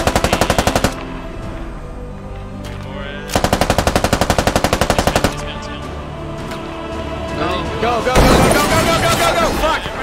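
Rapid, very loud bursts of automatic gunfire from the game Squad hammer out in long strings, pause, then return, with heavy rumbling and blasts between volleys and voices talking over the action.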